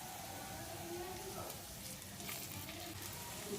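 Fish roe pakoras frying in hot oil in a pan, a steady close hiss and crackle running throughout, with a person talking over it.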